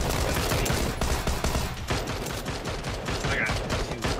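Bursts of gunfire in PlayerUnknown's Battlegrounds ring out continuously, overlapping shots and crackling reports filling the whole stretch at steady volume, with a voice faintly mixed in.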